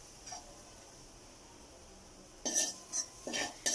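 A spoon scrapes and stirs fried cabbage into dosa batter in a bowl, quiet at first, then a few louder scraping strokes near the end, with no talking.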